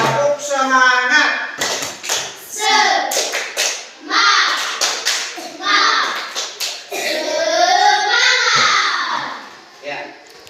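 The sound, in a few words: class doing a rhythmic spirit clap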